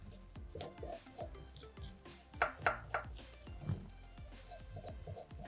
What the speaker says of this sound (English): how I like to clean my ginger is with a back of a spoon